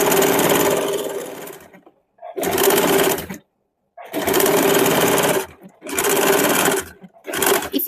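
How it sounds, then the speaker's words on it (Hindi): A sewing machine runs close and loud in four or five steady bursts with short pauses between them, double stitching the front of a double katori blouse. "डबल सिलाई चला देंगे।"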